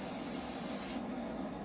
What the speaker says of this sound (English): I'm going to just spray my parts,